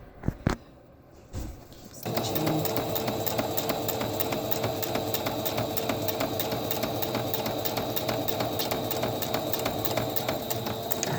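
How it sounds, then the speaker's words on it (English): A few clicks and a brief whir, then a sewing machine starts stitching landscape fabric and runs steadily, its fast needle clatter continuing close and loud without pause. "Stitch. And then keep on stitching all the way down."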